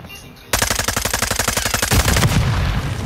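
Rapid machine-gun fire from the Call of Duty video game, loud and close, in dense bursts of quick shots that run for about a second and a half before giving way to heavier gunfire and blasts.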